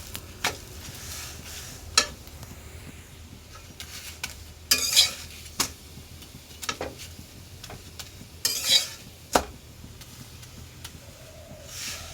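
Paratha cooking in a pan for a home breakfast, with soft sizzling under scattered clinks and scrapes of a utensil against the pan, faint and close with irregular louder knocks.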